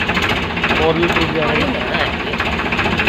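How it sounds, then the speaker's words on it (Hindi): Diesel engine of a Powertrac Euro 50 tractor fitted with a loader, a steady close rumbling drone while the loader arm lifts, with someone talking over it. "अभी आपको उठा के दिखा रहे हैं पूरा पूरा ऊपर किस हाइट तक ये जा सकता है"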